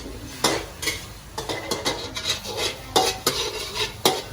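A utensil scrapes and clanks around a pan in irregular strokes, with a faint sizzle underneath, close up.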